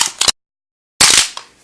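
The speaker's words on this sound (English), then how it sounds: "Kill that water bottle." A dog crushing and biting a plastic water bottle: two sharp bursts of loud crinkling crackle, close up, separated by a brief silence, with no talking.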